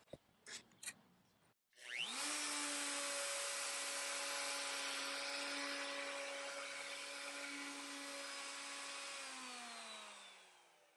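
A router fitted with a ZahyoX combination compression flush trim bit spins up after a few brief knocks. It whines loudly and steadily while cutting wood along a template, then the pitch begins to drop near the end.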